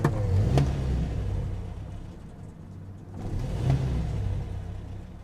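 A Riley One Point Five, a 1950s classic saloon, has its engine cranked and started, rising into a steady idle, then revving again near the close, loud and close with no talk.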